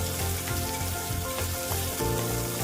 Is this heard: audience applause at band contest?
no